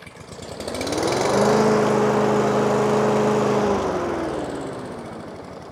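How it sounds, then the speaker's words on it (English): Masport Rotarolla lawn mower with a Briggs 163cc engine, revving up to a loud steady drone, holding for a couple of seconds, then easing down with a dropping pitch. "Got a Briggs 163cc, which was easy enough to start up."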